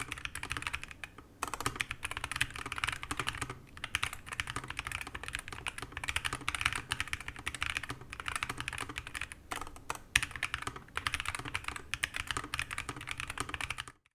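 Fast typing on a Nuphy Air60 V2 mechanical keyboard with alloy switches, dense clattering keystrokes with brief pauses, close and fairly quiet, no voices.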